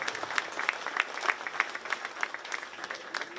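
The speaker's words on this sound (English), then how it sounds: "Let's give these young people a round of applause." A county fair crowd claps for young 4H beef cattle exhibitors in the show ring, steady, fairly faint applause with distinct individual claps heard from a distance.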